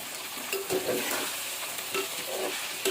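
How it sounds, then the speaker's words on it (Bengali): Mangoes cooking in a pot, stirred with a spoon that scrapes in short bursts over a soft background simmer, close and fairly quiet, no voices. "তো এখন ভালো করে নেড়ে চেড়ে"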